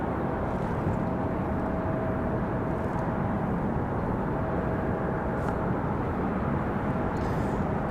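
An airliner takes off from runway 23 right at Raleigh-Durham International Airport, heard as a continuous, fairly distant broadband jet roar that holds steady without speech.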